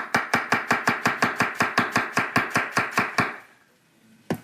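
A knife chops a red onion on a cutting board in a fast, steady run of about seventeen crisp strokes, then stops, leaving near silence with one faint knock at the end.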